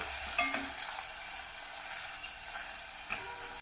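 Onions fry in a little oil for a North Karnataka moth bean curry, a steady bright sizzle with a few soft stirring scrapes near the start and end.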